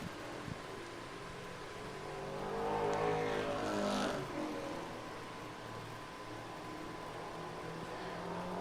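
A late model stock car on a qualifying lap at Thunder Road Speedbowl in Vermont during the Milk Bowl, its engine droning at a distance and swelling loudly as it passes around the middle before fading back to a steady far-off roar.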